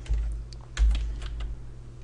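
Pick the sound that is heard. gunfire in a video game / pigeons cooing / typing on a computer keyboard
typing on a computer keyboard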